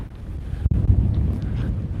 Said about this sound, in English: it's a little windy on this side here right now